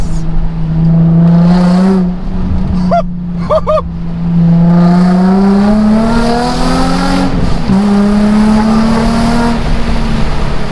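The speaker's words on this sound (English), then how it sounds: "Oh, the downshifts." A Nissan 350Z fitted with sports cats roars loudly from inside the car, its exhaust droning, dipping and blipping through a pair of sharp downshifts before the engine note climbs again.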